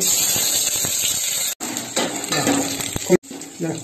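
Onion drops into hot oil in a pan and fries with a steady sizzle, broken by two brief pauses and mixed with clinks of a utensil against the pan while a voice speaks briefly.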